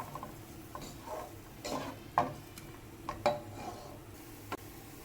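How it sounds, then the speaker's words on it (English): Chopped onion sautéing in olive oil in a pot, heard as quiet scraping and stirring with a few clinks against the pot and a faint sizzle under it, close, with no talking. "Sauté the onion for a minute or 2."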